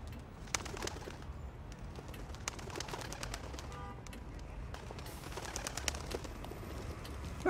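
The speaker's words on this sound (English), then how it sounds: "I envy the pigeons." Pigeons coo faintly in a city setting, soft calls buried in steady background noise, with occasional sharp clicks throughout.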